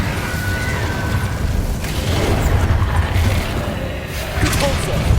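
Video game spellcasting from Hogwarts Legacy, an Incendio fire spell released with a whooshing burst amid a dense, rumbling mix of game effects, with some other bursts and impacts around it.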